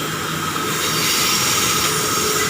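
A KTM district commuter train in Malaysia rushes past at speed, a steady loud rumble with high rail noise and a faint squeal, continuous throughout.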